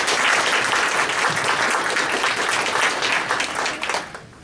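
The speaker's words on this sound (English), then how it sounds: "Quick round of applause for our panel." Loud, dense audience applause for a discussion panel at a public talk event, sustained and even for several seconds before tapering off sharply at the end.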